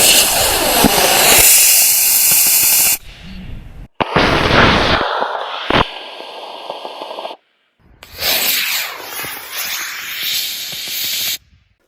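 A thrust vector controlled model rocket motor roaring into liftoff, a loud harsh hissing rush in several bursts broken by abrupt cuts and brief silence.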